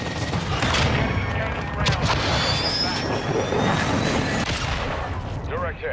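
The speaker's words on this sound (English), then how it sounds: "Trojan 6-2, cruise missile inbound." Cruise missile strike in Call of Duty: Modern Warfare II, a loud roaring rush of jet-like noise and rumbling blasts mixed with scattered gunfire, sustained and dense throughout.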